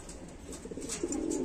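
Pigeons held in a home loft coo softly in low, rounded murmurs that swell slightly toward the end, with faint bird chirps above and no voices.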